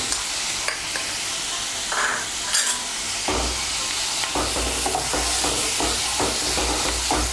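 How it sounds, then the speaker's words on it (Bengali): Chopped medium tomato stirred into spices in a hot frying pan, loud continuous sizzling with scraping spoon strokes and bursts of hiss as the mixture is turned. "এর মধ্যে এখন আমি টমেটো কুচিটাও দিয়ে দেব।"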